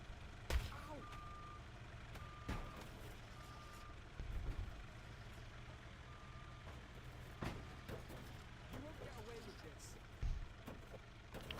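A van is stolen and driven off in Goat Simulator 3, with reversing beeps and faint vehicle engine noise under a player talking over the game.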